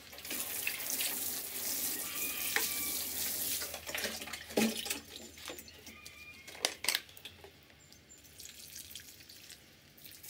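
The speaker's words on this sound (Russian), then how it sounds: "слегка пролила простой водой и также раствором с Максимом" Water poured from a container into garden plant pots after planting gladiolus bulbs, a running splashing trickle with a few louder gushes and drips, close by and without talk.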